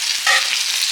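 Jackfruit curry with turmeric frying in a pan over lowered gas, stirred with a spoon: a continuous close hiss of sizzling oil with a brief scraping stir, no voices.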